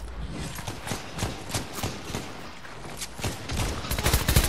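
Rapid bursts of gunfire from Fortnite rattle nearly continuously, with repeated sharp shots building louder toward the end and no speech over them.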